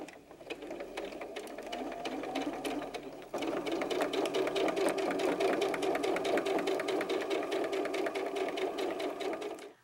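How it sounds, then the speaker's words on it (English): A sewing machine runs steadily, stitching around the edge of a fabric softie body with a quarter-inch seam. The whirring is loud and close, and it speeds up slightly partway through before stopping at the end. "I'm going to sew around this outer edge using a 1/4 inch seam allowance"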